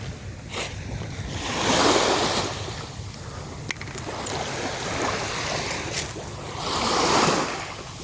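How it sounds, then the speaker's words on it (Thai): Strong wind gusts roar across a seashore at Nam Nao beach, Samae San, mixed with surf washing in; the blustery rush swells and fades in two broad waves, steady and close, with no talking. "ลมแรงมากนะ"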